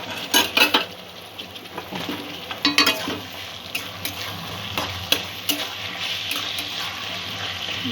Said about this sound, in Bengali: ভাজার সময় গ্যাসের ফ্লেম মিডিয়াম রাখলেই ভালো হয়, যাতে সবজিগুলো ভালো করে ভাজা হয়ে যায়।